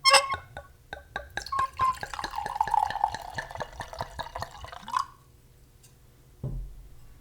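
A liquid is poured close up in a gurgling glug with rapid rhythmic bubbling pulses that rise in pitch as the vessel fills, stopping around five seconds, followed by a brief thud after a short pause.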